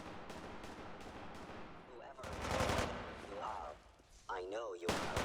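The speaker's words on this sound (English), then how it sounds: "We might have some synths, well, it sounds like we've got some synths in here." Synths trade gunfire in Fallout 4, with repeated bursts of shots in a busy combat soundscape, under robotic in-game voices and some talk.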